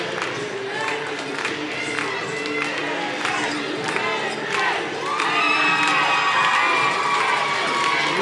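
A professional wrestling crowd cheers and shouts for local hero AJ Black, a loud, continuous roar of voices with children's shrieks that swells louder midway and holds.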